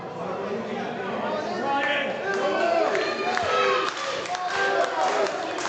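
A wrestling crowd at a Texas Contenders Series match cheers and chatters to rally Izzy James, with a steady roar, scattered shouts and claps, and an announcer talking over it.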